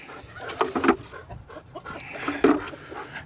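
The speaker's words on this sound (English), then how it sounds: "we got 3 hens in here" Clucking from three hens in a farm pen, a few short bursts close by with quiet gaps between them.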